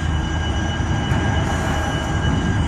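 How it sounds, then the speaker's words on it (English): Several Susquehanna diesel locomotives, including an SD45-2, idle in Binghamton Yard, giving a steady, loud low rumble with a faint metallic whine above it and no talk. "I found some more Susquehanna engines here in Binghamton Yard."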